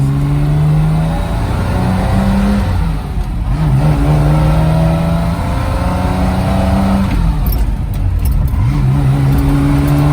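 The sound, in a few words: Aston Martin DB4 straight-six engine revving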